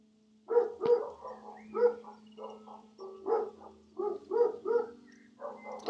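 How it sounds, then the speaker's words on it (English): Dogs barking repeatedly indoors, a series of sharp, fairly close barks and yips in an uneven rhythm. "I don't know if you guys can hear my dogs"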